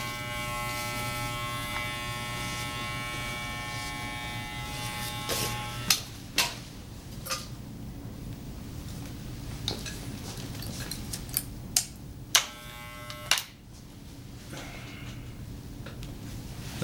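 Electric hair clippers buzzing steadily at close range during an Afro-centric haircut, with a few sharp clicks and taps breaking in toward the end; no one talks.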